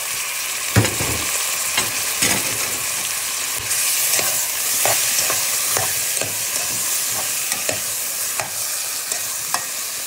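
Chicken and pork sauté with garlic, onion and ginger for tinola, a steady close-up hiss of frying punctuated by frequent sharp clacks of a utensil stirring the pan.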